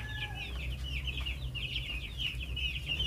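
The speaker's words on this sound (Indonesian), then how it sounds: "ngasih pakan ayam lagi" Chickens on a farm raising maggots for livestock feed cluck and chatter in quick, fairly faint bursts over a steady low mechanical hum while being fed.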